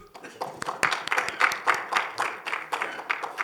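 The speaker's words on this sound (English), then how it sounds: "Let's welcome him with a huge round of applause," Scattered applause from a modest audience welcoming a speaker at a lab talk concert on environmental sustainability, with individual claps in an uneven rhythm, fairly quiet and close.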